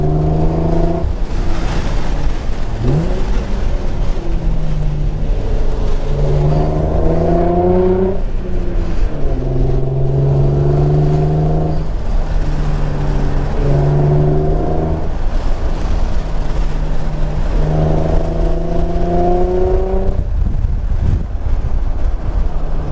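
An Infiniti G35 with a Motordyne setup is driven hard along a canyon road by Canyon Lake, its engine revving up and down through repeated loud pulls beneath steady wind rush, with no talking.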